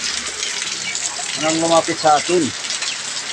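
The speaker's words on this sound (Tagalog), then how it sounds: "Kasi tumutulo yung trapal." Rain drips through a leaking tarpaulin shelter during a heavy downpour, a steady broadband patter running under the whole clip while someone talks over it partway through.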